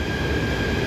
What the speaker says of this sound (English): Subway train. Subway train.